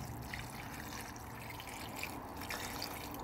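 Water runs steadily into a cooking pot while quesadilla filling with olive oil is being prepared, a constant close splashing trickle with no voices.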